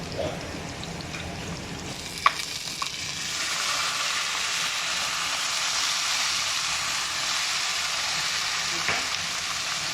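Soaked moong dal and onion frying in a pan for khichdi, a steady close sizzle filling the whole stretch with a few soft clinks and stirring knocks, no voices.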